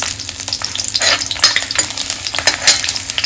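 Garlic and onion frying in hot coconut oil in a wok for a breadfruit curry masala, a loud crackling sizzle with rhythmic bursts of stirring and scraping, close up and without speech.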